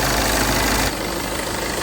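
A BMW 3 Series left running after repair of a massive oil leak idles loudly and steadily up close, its even rumble dropping slightly in level partway through with no speech.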